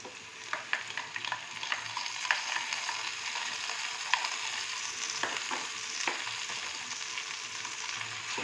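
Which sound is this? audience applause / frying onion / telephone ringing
frying onion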